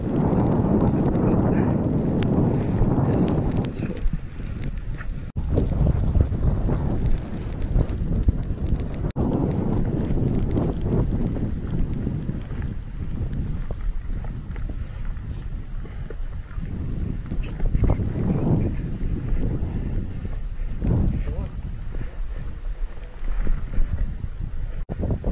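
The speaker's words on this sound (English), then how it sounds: "That wind just picked up then." Strong wind gusting across an exposed outdoor spot on a mountain ridge, a steady loud roar buffeting the microphone with surges throughout, heard alone.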